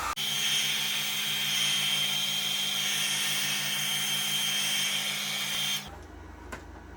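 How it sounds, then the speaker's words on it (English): A blow dryer runs steadily on a wig, giving a constant loud whooshing hum with a low motor drone, then cuts off abruptly near the end, leaving quiet room noise. "I'm going to take my blow dryer and blow dry it a little bit"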